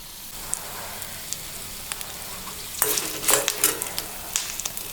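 Curry leaves and small onions frying on a medium flame for beetroot chutney, a soft steady sizzle that swells into crackling spatters as they hit the oil.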